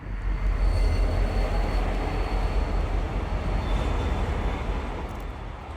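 An MBTA commuter rail train with an F40PH3C locomotive and a Rochester Jeep car rolls past, a loud continuous rumble of wheels and cars that holds steady before easing slightly at the end.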